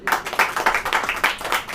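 Congregation at a church service clapping together, a close, loud burst of rapid, rhythmic handclaps lasting under two seconds.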